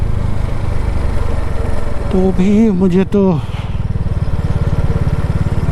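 A motorbike rides a Bihar national highway, its engine a steady close drone throughout, with someone talking over it for a few seconds.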